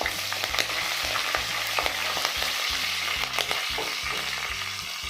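Curry leaves and sliced green chilli crackle and sizzle steadily in hot oil, a dense, continuous close-up frying hiss with faint stirring and no voices.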